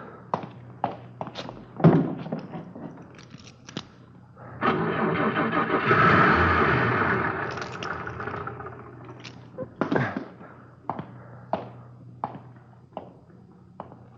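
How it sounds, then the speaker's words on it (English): A car engine is cranked repeatedly, the starter churning in a long grinding burst without catching, surrounded by sharp clicks and thuds, fairly close and with no talk. "Lousy car wouldn't start."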